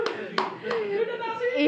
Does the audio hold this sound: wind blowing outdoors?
no